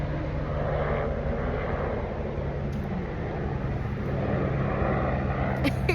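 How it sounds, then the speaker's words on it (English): Helicopter flying overhead with a steady low rotor and engine drone holding across the whole stretch, close and fairly loud, with faint voices mixed underneath. "That's a helicopter."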